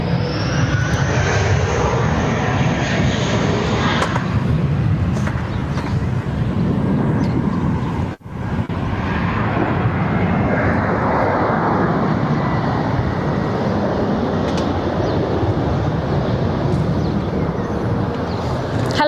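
A Vueling airliner takes off from Barcelona airport, bound for Ibiza, its engines roaring loud and sustained throughout, with one brief dropout partway through.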